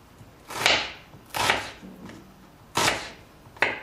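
A knife slices a red onion into rings on a board with four crisp, separate chops spaced unevenly over a few seconds, each a sharp tap against the surface.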